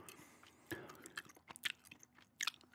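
Gum is chewed close to the microphone in a quiet room, with soft wet smacks and sharper clicky crunches coming in an irregular rhythm and a faint hum underneath.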